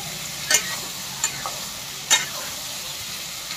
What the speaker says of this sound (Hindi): अभी मसाला भी अच्छा से पूरा भूनेंगे पूरा लाल करके